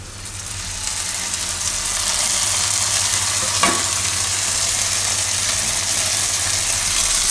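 Corn goes into a hot pan with oil and asafoetida and is stirred, giving a steady loud sizzle that swells after the first second, with a brief scrape of stirring near the middle.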